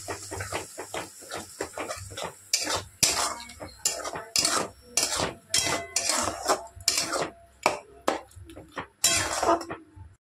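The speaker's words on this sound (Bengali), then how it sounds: "এটাকেও ভালো করে নেড়ে চেড়ে নেব।" A spoon scrapes and knocks against a pan as a half-ground tomato and onion paste is stirred for paneer dopiyaza, making a series of irregular metallic clinks and scrapes, close and fairly loud, over a faint sizzle.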